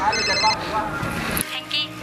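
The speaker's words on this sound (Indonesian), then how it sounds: "Ada telepon bang." A telephone rings with a repeated electronic ringtone, bright and fairly close, while people talk over it in Indonesian.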